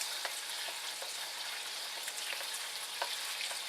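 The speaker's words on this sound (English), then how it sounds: "My pan must not be hot enough." Chicken stir-fry sizzles in a pan with a steady, hissing fry dotted with small pops and crackles, heard up close and without any voices.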